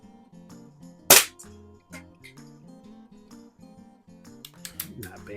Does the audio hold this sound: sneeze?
no